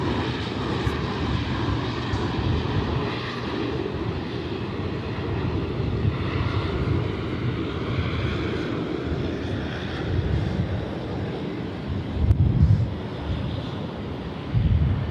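A Jetstar airliner passing over Sydney Airport at night, a steady broad jet engine rumble heard from a distance, sustained throughout with light wind buffeting on the microphone.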